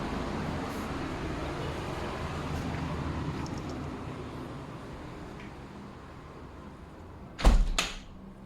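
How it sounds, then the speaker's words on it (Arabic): An apartment's sliding door sliding and bumping shut near the end, a short loud burst after a long stretch of steady room and traffic background noise. "وده باب جرار اللي احنا قلنا بيفصل الأوض كلها"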